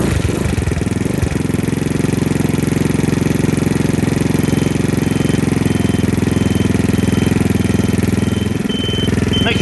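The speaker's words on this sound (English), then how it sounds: "Turn on your scooter." A Chinese scooter engine runs steadily at idle, a loud, close, continuous mechanical drone with a dense low rumble, holding even for the whole stretch with no voices.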